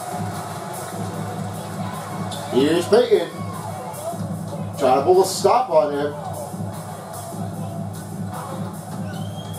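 Simulated arena crowd from an NBA 2K22 Heat vs Warriors Finals game keeps up a steady roar beneath a commentator's play-by-play, with louder swells of cheering around the action.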